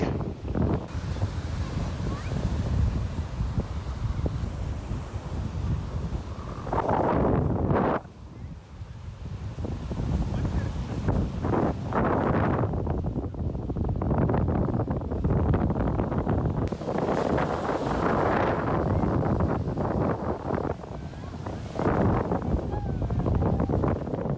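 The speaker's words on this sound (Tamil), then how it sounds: "இவ்வளவு வேகமாகவும் உயரமாகவும் அலைகள் அடிக்கும் அழகான புதுப்பட்டினம் கடற்கரை" High, fast ocean waves break on windy Puduppattinam beach, surging in heavy, uneven washes under strong wind gusts on the microphone, with a brief lull partway through.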